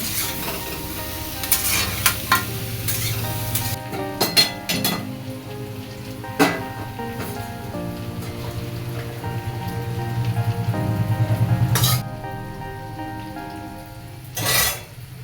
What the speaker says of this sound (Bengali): এখানে পেঁয়াজ কালি ফুলকপি আলু একসঙ্গে ভাজা বসিয়ে দিলাম এর মধ্যে জিরে আর শুকনো লঙ্কা ফোড়ন দিলাম